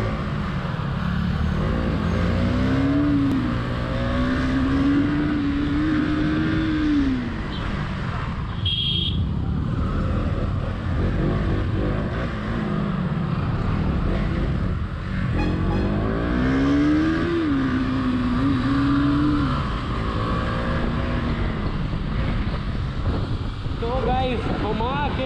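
A KTM Duke 200 and a Yamaha R15 V3 street race, engines droning and swelling through rising and falling revs under heavy wind rush, with voices faintly present.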